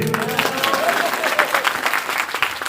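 An audience at a Bhagavata Purana katha gives loud applause for the musicians, dense rhythmic clapping with crowd noise and some talk mixed in.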